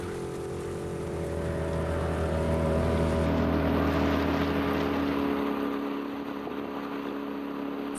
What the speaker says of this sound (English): Former Cross Creek fisherman Don Bachnight maneuvered his 18-foot homemade wooden boat across Orange Lake in southeast Alachua County.